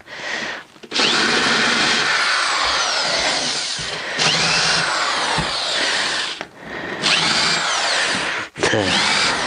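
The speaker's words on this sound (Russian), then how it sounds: "Вот сначала насверлю таким образом." Corded electric drill boring into 21 mm plywood floor sheets, loud and close, running in three long bursts separated by brief pauses.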